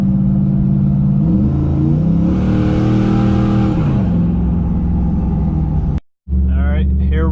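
A GMC truck engine revs under boost, its tone holding, climbing and dipping through several steady swells before a brief cut and a lower rumble, loud and close.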